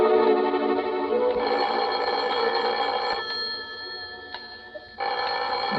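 An old-fashioned telephone bell rings steadily and loudly at a prison warden's office in a vintage radio suspense drama, with no voices over it.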